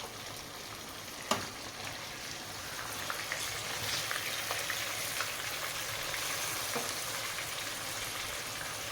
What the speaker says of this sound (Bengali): তখনই আমি এটাকে পাল্টে আবার দ্বিতীয় দিকটা ভালো করে ফ্রাই করব